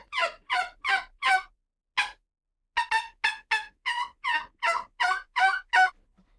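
A turkey tube call imitates a gobble in loud, rapid, rattling bursts. Four quick gobbles come first, then a single one, then a longer run of about a dozen, all close and clear with nothing else heard.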